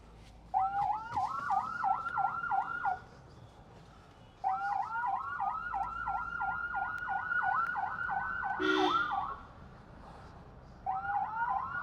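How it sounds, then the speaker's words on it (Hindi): A vehicle siren cycles in fast rising whoops, stopping briefly and restarting, fairly close, with a short tone burst in between and a faint hum behind. "तो हूटर लग के हो गया रेडी, और अब आपको सुनाते हैं आवाज़"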